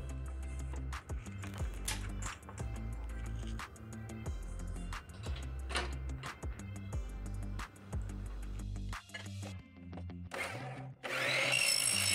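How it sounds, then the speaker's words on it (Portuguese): A power saw makes a 45-degree cut across the width of a small door part, likely aluminium profile, with a loud sustained whine in repeated bursts and short pauses, ending in a harsher high grinding burst, with no voices. "Agora nós vamos fazer o corte do 45 grau da parte da largura também."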